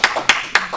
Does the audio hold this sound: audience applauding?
yes